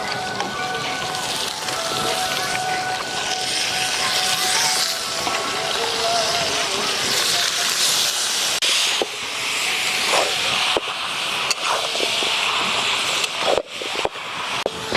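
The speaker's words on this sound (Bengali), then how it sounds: "ম্যারিনেট করে রাখা চিকেনগুলো দিয়ে দিচ্ছি।" Marinated chicken dropped into a pan of cooked spices over a bamboo-fuelled fire, giving a loud, steady sizzling hiss that continues throughout with a few clanks.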